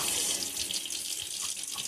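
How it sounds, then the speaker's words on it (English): Water runs from a kitchen tap into a sink, a close, steady hissing splash that fills the short stretch without any talk. "Turn the water off."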